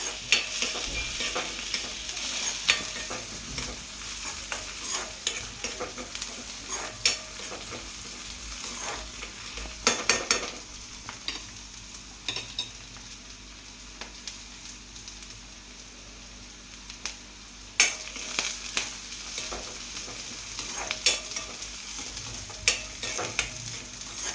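Onion fries to a crisp brown in a pan, a steady close sizzle running the whole time, broken by frequent scraping stirs and occasional louder clatters.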